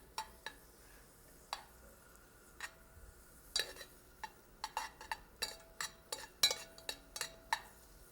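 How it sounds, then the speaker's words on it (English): Mushrooms going into a pan to sauté in butter for Salisbury steak, heard as quiet clinks and taps of a utensil against the pan at irregular intervals, with no voices. "we're going to put the mushrooms right in there. Okay, you can hear them beginning to cook"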